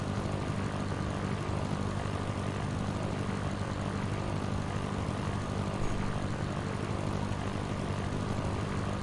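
A Cessna propeller engine in a flight simulator game drones steadily and evenly throughout, a continuous buzzing hum with no talk.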